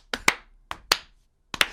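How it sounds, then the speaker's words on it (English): Recorded crowd applause at a sports show's home opener, heard as three short bursts of a few sharp claps each with brief silences between, fairly faint. "That was an actual sound clip of the crowd"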